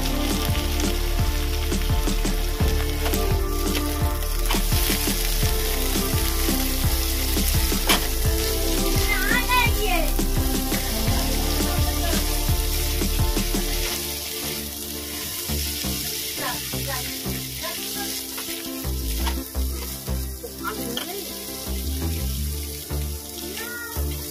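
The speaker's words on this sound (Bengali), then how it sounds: "আমি এই তেলের মধ্যে চিংড়ি মাছগুলো দিয়ে ভেজে নেব।" Prawns sizzle and spit steadily in hot oil in a Bengali home kitchen during potol chingri cooking, a loud, continuous crackling frying noise that thins slightly halfway through, with faint clinks and no talking.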